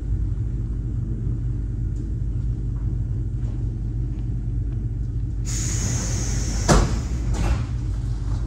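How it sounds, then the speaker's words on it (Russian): A steady low rumble inside an electric commuter train near Orekhovo-Zuevo, then a hiss and a thud as the electric doors slide shut. "Осторожно, двери закрываются."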